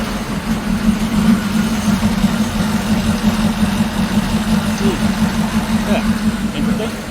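A GMC truck engine idles with a steady, low, even rumble close by. It holds constant throughout, with voices faintly present.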